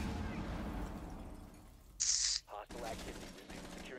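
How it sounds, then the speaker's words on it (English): Gunshots in Rainbow Six Siege ring out as a loud, brief burst in the middle of the clip, followed by a couple of shorter bangs, with players talking and an in-game voice announcing over the action. "He just shot at you."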